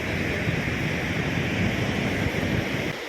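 Steady ocean surf washing onto a beach in Goa at sunset, a continuous broadband roar with wind buffeting the microphone, holding at an even level throughout.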